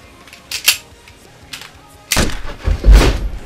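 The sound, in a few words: gunshot sound effect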